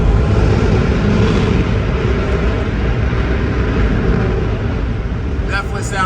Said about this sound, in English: That is probably maybe a fighter jet even taking off